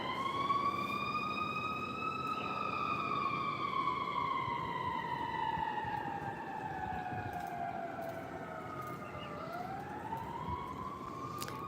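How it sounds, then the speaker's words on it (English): A wailing siren sweeps slowly up and down over steady background noise, sounding moderately distant and continuous for the whole stretch. "More sirens, right? More sirens."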